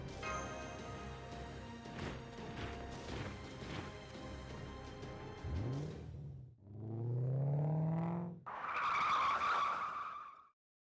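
A motorcycle engine in the game Fate/Grand Order revs loudly with rising and falling pitch sweeps, mixed with skidding and screeching, ending in a high whine.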